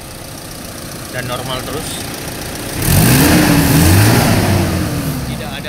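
A car engine idles, then is revved hard with the throttle and held high before easing back, pulling cleanly without stumbling during an ignition and fuel system check; someone speaks Indonesian over the running engine.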